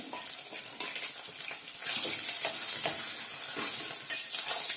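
Eggs frying in oil for egg biryani crackle and sizzle steadily up close, with scattered spatters and a brighter, louder hiss swelling partway through; no one speaks.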